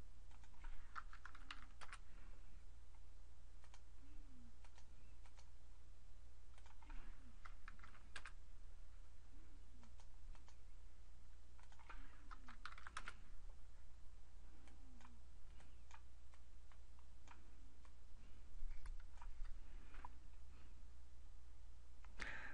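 Typing on a computer keyboard, light keystroke clicks in short irregular bursts over a steady low hum, faint and close, with no speech.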